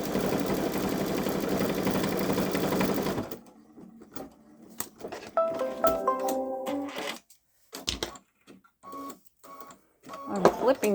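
A Babylock Solaris 3 embroidery machine stitching a hummingbird wing runs in a fast, dense mechanical chatter for about three seconds, then stops. Scattered clicks, thread handling and a speaking voice follow.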